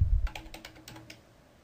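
Keystrokes on a computer keyboard while entering a command in AutoCAD, a quick run of light clicks after a low thump, fairly quiet and close, with no talking.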